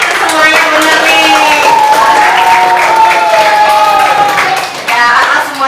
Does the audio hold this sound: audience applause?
yes